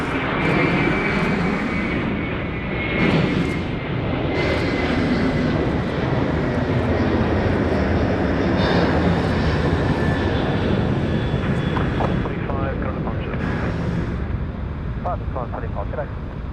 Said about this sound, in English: A330 coming out first.